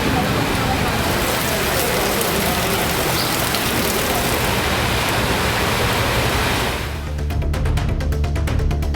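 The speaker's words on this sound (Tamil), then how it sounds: "உதகை மற்றும் சுற்றுவட்டார பகுதிகளில் பெய்த கனமழையால் படகு இல்லத்தில் மிதிப்படகு, துடுப்பு படகு சேவைகள் தற்காலிகமாக நிறுத்தப்பட்டன" Heavy rain pours steadily in Ooty, a dense, loud hiss of downpour filling the scene throughout, shifting near the end to a closer patter with a low rumble beneath.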